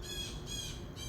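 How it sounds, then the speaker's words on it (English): Birds call outdoors in a short series of about three quiet, rhythmic squawking chirps over a low background hum, with no talking. "the birds are out."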